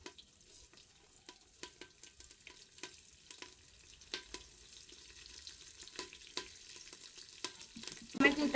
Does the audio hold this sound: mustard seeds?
yes